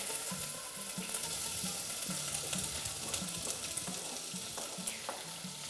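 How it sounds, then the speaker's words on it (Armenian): Chopped onion sizzles and crackles steadily in a preheated frying pan, with occasional stirring clatter over a constant hiss. "Այս պահին տապակում ենք սոխը"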